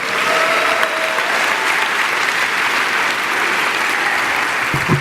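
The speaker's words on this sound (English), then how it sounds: "let's give them all a round of applause" Large theatre audience at an entrepreneurship competition finals applauding, dense, loud and steady clapping throughout without a break.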